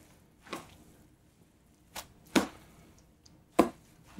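Tongs tossing softened rice noodles with egg roll filling, a handful of sharp separate clacks and squelchy taps spaced out over a few seconds, close and fairly quiet.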